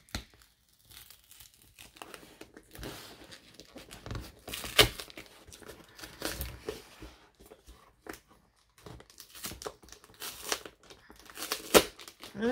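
A glued cardboard package is pried and torn open by hand, with close crinkling, ripping and crumpling in irregular bursts separated by brief quiet moments.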